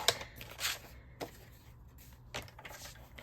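Cardstock is trimmed for a card mat, with several soft cutting and sliding strokes spaced out across a quiet tabletop scene.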